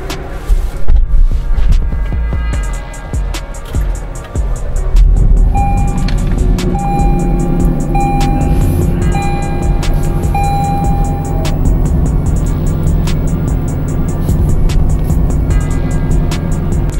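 A Lexus LC 500 limited edition car, parked after a car wash, starts and then runs with a low engine rumble, while repeated high electronic warning beeps sound over it through most of the stretch.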